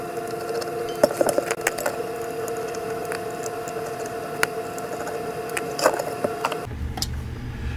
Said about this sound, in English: And we're going to remove the screws. There's 3 of them on either side.